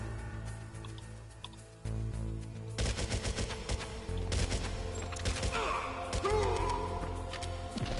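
Gunfire in the Metal Gear Solid video game, heard as a run of rapid sharp shots over game background sound, with a few bursts and thuds spread across the stretch.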